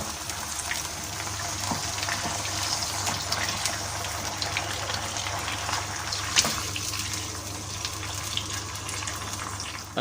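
Hunter beef boiling in a pot of water, a continuous bubbling and gushing wash with faint ticks and small pops, steady and close throughout.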